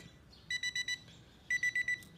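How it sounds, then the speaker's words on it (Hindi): An SZ-805 digital alarm clock with a transparent display rings its alarm in two bursts of four quick, evenly spaced electronic beeps, with a short pause between the groups. The beeps are clear against a quiet background and no one talks. "इतनी इसके अलार्म की आवाज़ है।"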